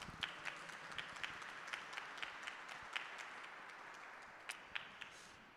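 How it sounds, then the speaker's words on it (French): Audience applause after presentations on restoring a statue of Saint Nicholas, a fairly soft wash of clapping with a few sharper individual claps standing out, continuing steadily throughout. "Encore des applaudissements pour Sylvain Lauvergnat"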